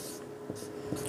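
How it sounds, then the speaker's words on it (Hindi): A pen writes a division problem for a rational numbers maths lesson, making short scratchy strokes in quick bursts, faint and close, with no talk. "एक क्वेश्चन लिखते हैं"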